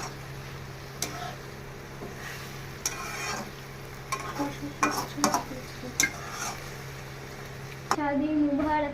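Soya chili being poured into a pan and frying, a low sizzle punctuated by clicks and clatters of utensils and cookware, with voices talking over it and music starting near the end.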